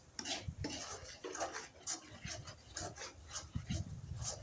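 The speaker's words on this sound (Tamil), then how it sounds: "நல்லா கிளறி விட்டுக்கலாம்." A spatula stirs carrot and egg in a pan, making quiet, irregular scraping and light metallic clinks close by.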